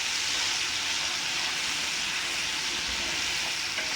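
Onion, green chili and tomato frying in hot oil in a pan, a steady, dense sizzle that runs unbroken and fairly loud throughout, with no voices over it.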